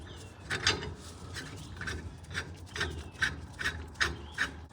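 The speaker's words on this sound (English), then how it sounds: "Now let's put our slide hammer on." Rhythmic scraping turns sound as a slide hammer is threaded onto a hub attachment on a Nissan Titan axle, close and repeated about once every half second.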